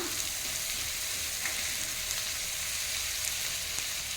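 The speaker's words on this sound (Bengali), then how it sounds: "আবারও নাড়িয়ে দেব। তবে চিংড়ি মাছ খুব বেশি আর ভাজবো না।" Prawns frying in a pan after their water has cooked off, giving a dense, continuous close sizzle with occasional faint stirring scrapes; no voices.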